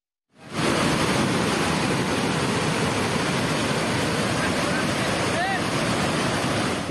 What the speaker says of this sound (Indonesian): banjir lahar dingin menerjang sejumlah aliran sungai di lereng Gunung Merapi